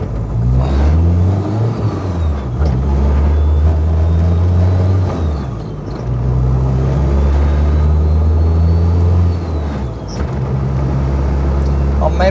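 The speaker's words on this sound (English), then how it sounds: "when I'm just barely touching the gas pedal, it begins to sputter" A car engine sputters at light throttle, then rumbles and accelerates with rising and falling low drones across several pulls, while the driver talks over the engine noise.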